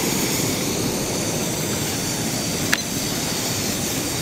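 A compact canister camp stove burner roaring at full flame during a boil test, a loud steady broadband rush with one brief click partway through, close and without talk.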